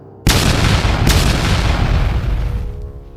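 Giant fireballs blast into ancient temple walls with a sudden loud, booming explosion that rolls into a long, roaring rumble, and a second sharp burst follows about a second later.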